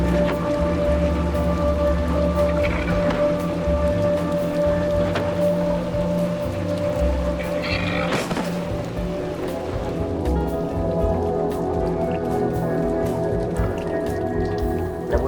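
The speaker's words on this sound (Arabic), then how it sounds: "صوت المطر عالي" Heavy rain in the video game Little Nightmares 2 pours steadily without a break, a dense hiss with occasional louder clatters and a low droning hum underneath.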